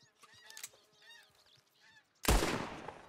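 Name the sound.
geese honking overhead in video game Red Dead Redemption 2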